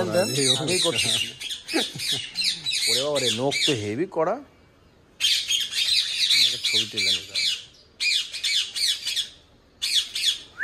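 A pet violet ringneck parrot gives repeated harsh, close squawks in short bursts, with a person talking in between the calls.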